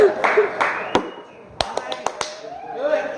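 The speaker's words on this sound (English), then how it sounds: "Everybody clap." Audience at a comedy club clapping, with scattered claps and a few sharp hand slaps spread through the moment, mixed with crowd voices.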